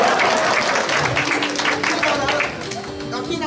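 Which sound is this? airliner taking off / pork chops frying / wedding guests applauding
wedding guests applauding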